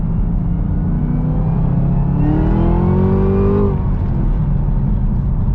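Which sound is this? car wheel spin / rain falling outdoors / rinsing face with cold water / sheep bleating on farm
car wheel spin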